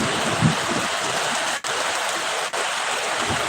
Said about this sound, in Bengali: বৃষ্টি কিছুটা কমে গেছে